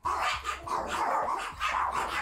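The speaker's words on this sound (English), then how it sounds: "Shut up, dogs." Dogs barking in rapid, repeated bursts close by, loud and continuous with growly edges, no talk over them.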